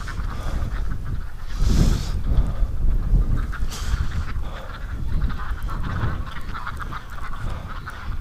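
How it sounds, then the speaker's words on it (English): Ducks splash and play in water in snowy winter weather, giving a mix of quacks and honks over steady background noise; no talking. "I guess the ducks are out in the snowstorm"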